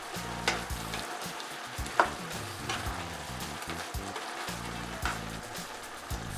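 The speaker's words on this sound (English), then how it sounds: "Add the meatballs and stir for 15 seconds." Meatballs sizzle and fry in a wok of sweet and sour sauce thickened with starch, with repeated scraping stirs and occasional sharp clinks of the utensil against the pan, close and steady.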